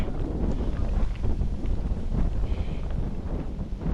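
Strong wind gusts buffet the microphone on a mountain peak at Mount Batulao, in loud, uneven rushes, a continuous roaring blast outdoors with no voices.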